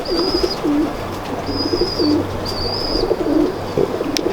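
Pigeons coo softly in repeated low, rolling calls against steady background noise, with thin high chirps from other birds now and then, in Lahore.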